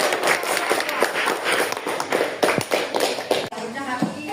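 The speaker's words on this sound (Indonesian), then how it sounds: "Beri tepuk tangan untuk teman." A classroom claps for a student, a dense, continuous patter of many hands clapping close by with voices mixed in, cutting off briefly near the end before the room noise carries on.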